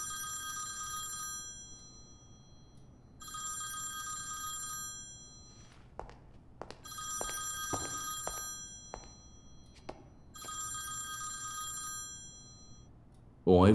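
A telephone bell rings in four long trilling bursts separated by pauses, loud and close in a quiet room, with a few knocks and thumps between rings and a sudden loud sound at the very end.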